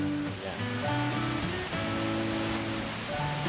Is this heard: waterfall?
yes